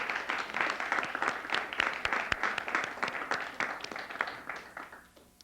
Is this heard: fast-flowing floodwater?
no